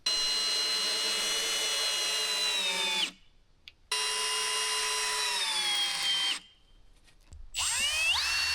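A power drill drives Timberlock screws through log rafters into 4x6 beams on a carport frame: loud, close, sustained whining runs of several seconds each, with brief quiet pauses between them.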